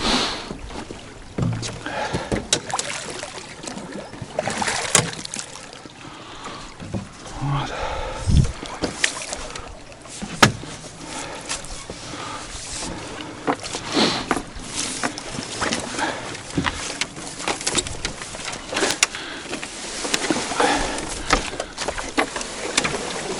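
A narrow motor boat runs along a river with an outboard motor, its engine hum mixed with splashing water and knocks on wood, while people talk intermittently nearby.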